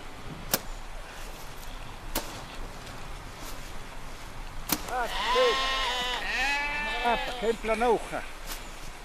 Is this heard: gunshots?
no